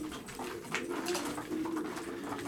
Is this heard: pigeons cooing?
yes